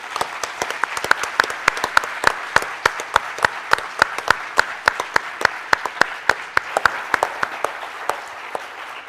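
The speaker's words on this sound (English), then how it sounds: "give all of those people a round of applause" A symposium audience claps steadily for about nine seconds, a continuous patter of many hands with a few louder close claps standing out, and no voices over it.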